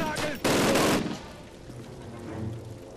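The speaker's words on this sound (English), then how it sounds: "Oh my lord, I'm being shot." Automatic gunfire in the Call of Duty video game as the player's character is shot: a loud, dense burst of rapid shots lasting about half a second, then quieter game ambience with low rumbling.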